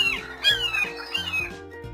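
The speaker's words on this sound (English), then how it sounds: "Seagull." Seagull squawks from a children's animal sound puzzle, several harsh nasal calls over a busy music bed, fairly close and moderately loud.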